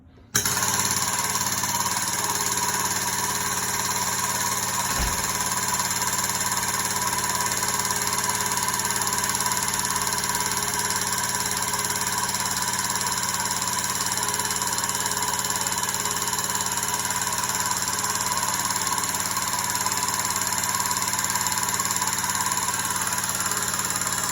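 Steady mechanical hum and drone of a 50-ton hydraulic shop press as the ram lowers, continuous and even with a single sharp knock early on, no talk.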